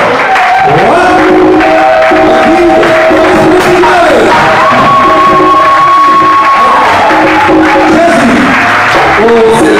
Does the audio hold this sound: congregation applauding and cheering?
yes